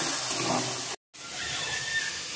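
Onion paste fries in hot oil with spices and curry leaves, giving a broad steady hiss and sizzle, close and loud, broken by a brief silent gap before the sizzle resumes slightly quieter.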